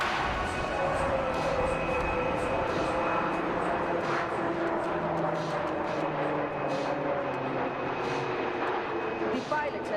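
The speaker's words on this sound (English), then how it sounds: "For executing this maneuver, the pilot will start a loop and go through the first half." An aerobatic airplane flies a horizontal figure of 8 at an air show, its engine droning continuously with shifting pitch as it loops, while a commentator talks over it.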